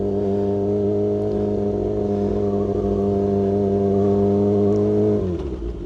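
Motorcycle engine held at a steady drone in second gear around 20 mph in a parking lot, loud and close with a sustained even hum, then dropping off abruptly near the end as it slows.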